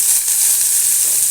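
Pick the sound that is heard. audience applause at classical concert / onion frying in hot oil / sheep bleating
onion frying in hot oil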